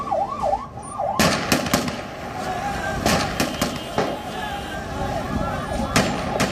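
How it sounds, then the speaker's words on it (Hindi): A Taliban fighter fires indiscriminately along the wall of Kabul airport: scattered sharp gunshots crack through a loud, crowded scene, with a wavering siren-like wail at the start and voices in the background. "काबुल के एयरपोर्ट की इस दीवार पर एक तालिबानी अंधाधुंध फायरिंग कर रहा है।"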